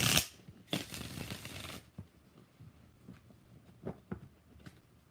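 Tarot cards riffled in a quick shuffle, a loud burst of papery flutter up close followed by a second flurry, then softer scattered taps and slides as the deck settles, with no talking.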